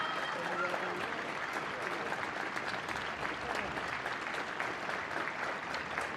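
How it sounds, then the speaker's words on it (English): Steady, distant applause from fans and players in a stadium during a Women's Super League football match between Chelsea and West Ham United, a continuous wash of clapping with no distinct voices. "those fans and players from both sides start an applause on the 7th minute of this game"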